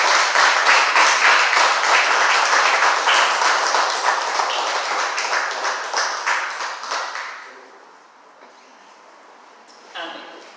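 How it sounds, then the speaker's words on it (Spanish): A church congregation gives a strong round of applause to the Lord during a service. Dense, steady clapping with a rhythmic pulse fills the room, then fades away after about seven seconds, leaving a quiet tail. "Denle un fuerte aplauso al Señor"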